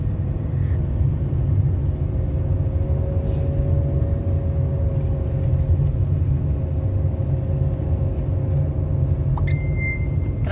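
A motor tricycle's engine labours up a steep hill road in Dolores, Quezon, giving a steady low droning rumble throughout, with a faint clink near the end.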